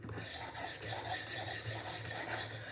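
A Benchmade knife blade is ground on a sharpener to remove chips, giving a continuous loud rasping, filing scrape with a steady back-and-forth rhythm, close up and without voices.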